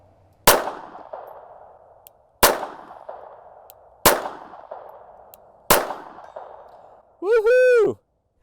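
A Ruger LCP II .22 LR pistol fired at a target 100 meters away, four loud sharp cracks at an even pace, each with a short echoing tail, followed by a brief warbling tone.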